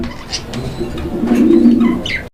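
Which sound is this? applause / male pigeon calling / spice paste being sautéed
male pigeon calling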